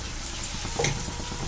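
Potatoes dusted with turmeric frying in a pan, a steady close sizzle with a brief stirring clatter midway, no voices.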